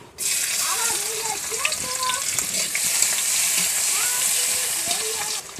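Chopped onion sizzles hard in mustard oil in a kadai wok, a loud, continuous frying hiss with scraping stirs and soft clinks close by.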